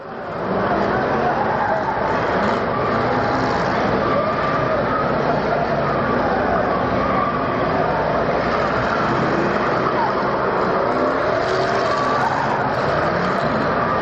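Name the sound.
race cars passing on an oval speedway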